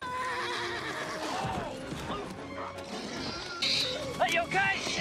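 A horse whinnies sharply near the end of a tense film scene in Tremors (1990), over a busy mix of music, movement and voices.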